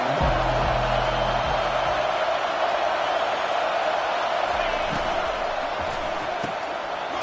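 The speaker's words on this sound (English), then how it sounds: "this crowd is turning it up a notch" A stadium crowd in the Madden 21 football video game roars in a loud, steady wash of cheering that fills the whole stretch, with a brief low thump near the start.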